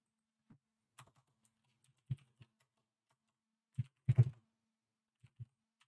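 Code being typed on a computer keyboard while writing a Java test: a few scattered key clicks, then short bursts of close, quiet tapping with pauses between them, no voices.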